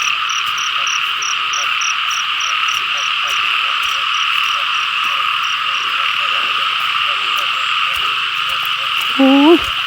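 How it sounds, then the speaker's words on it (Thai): A dense chorus of frogs croaks without pause in a pond at night, with a steady shrill drone under rhythmic, repeating calls close by, and a brief voice near the end. "เสียงกบเสียงเขียดห้องเนาะ"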